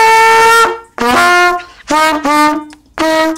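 A trumpet plays a theme melody alone, a run of bright, clear sustained notes with short breaks between phrases, close and loud.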